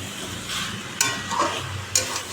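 Meat being braised and stirred in a pan with hot water added bit by bit, a soft steady sizzle with a few sharp scraping stirs, no talking.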